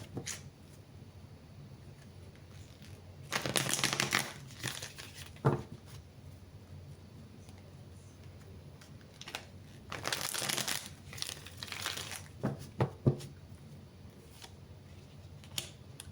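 Tarot cards being gathered up and shuffled close by: two bursts of riffling, papery rustle, each lasting about a second, separated by quieter handling, taps and light rustles of the cards.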